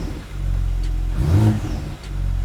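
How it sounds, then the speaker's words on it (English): A BMW G80 M3 with its twin-turbo engine revs from idle, a deep close rumble swelling into one strong rev around the middle before dropping back and building again. "You hear the turbo?"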